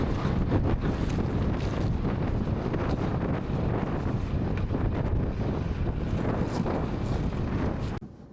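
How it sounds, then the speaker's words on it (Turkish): Strong wind buffets a microphone outdoors in a field during sowing, a constant loud roar and rumble that continues without a break for several seconds before it drops away abruptly at the end. "Dışarıda şu anda yaklaşık 40-45 e, kilometre rüzgar var."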